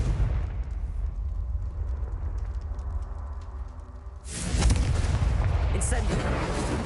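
A Confringo explosion spell bursts in the Hogwarts Legacy video game, a sudden loud blast midway that leaves a sustained roaring, crackling wash after a stretch of low game ambience.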